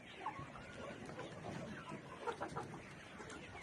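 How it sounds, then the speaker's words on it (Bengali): Kazi Hisex Brown chickens cluck and chatter at a poultry farm holding about 3000 ready pullets, a busy, continuous flock murmur with several louder calls standing out. "হাইসেক্স ব্রাউন মুরগি"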